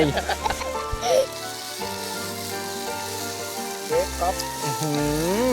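Basil and chili stir-fry sizzles and crackles steadily in a hot pan at a campsite, with a spatula scraping now and then, while music and occasional voices play over it.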